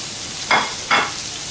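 Cashews, garlic, ginger and green chilli with onions are sautéed in a pan for kadai mushroom. A low sizzle is broken by two quick stirring scrapes, close and fairly loud.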